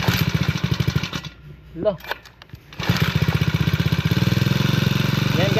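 A Honda grass cutter engine stutters, cuts out, then starts and settles into a loud, steady buzzing run close by, with people talking over it.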